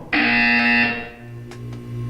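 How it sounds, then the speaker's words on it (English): A loud, harsh electronic buzzer from the video game Portal 2 sounds once for nearly a second, then cuts off, leaving a lingering hum and faint clicks. "When you hear the buzzer, look up at the ceiling."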